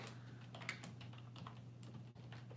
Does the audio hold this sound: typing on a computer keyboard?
yes